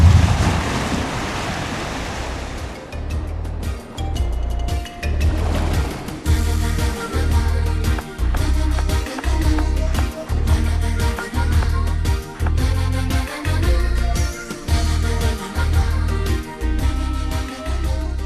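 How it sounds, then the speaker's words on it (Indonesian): Rumbling sea surge of tsunami waves, beginning with a loud roaring wash, then giving way to heavy rhythmic booming pulses that repeat roughly every second, strong and close, with no talk. "terdengar bunyi gemuruh dan tidak lama kemudian terjadi tsunami"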